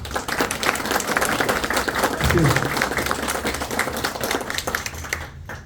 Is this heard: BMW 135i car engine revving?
no